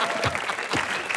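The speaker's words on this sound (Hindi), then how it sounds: "मैं शर्मा जी से ताली मांग रहा हूँ" A studio audience at a television comedy show claps in a short, dense, steady burst of applause, loud and close.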